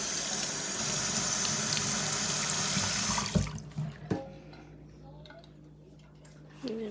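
A cooking utensil from making chicken fettuccine Alfredo is rinsed under a running kitchen faucet, a loud steady gush of water that cuts off abruptly, leaving a few clunks and faint clatter.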